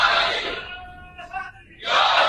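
A crowd at a religious gathering on the day of Badr loudly shouts a slogan. A lone voice leads the call in between, and then the crowd roars back in unison.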